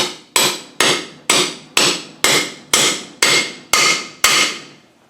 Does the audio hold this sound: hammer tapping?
yes